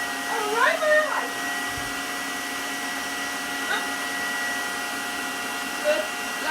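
Kitchen mixer running at full speed, beating egg yolks and flour: a steady, loud motor whine holds throughout, with brief higher squeals and rising tones near the start and a faint voice in the background.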